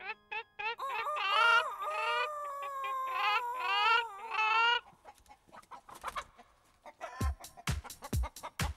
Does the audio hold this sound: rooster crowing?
yes